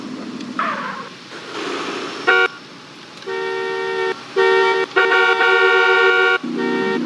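Car horns honking in traffic in GTA San Andreas, a series of loud toots and longer blasts of varying length over a running car engine, with no talk.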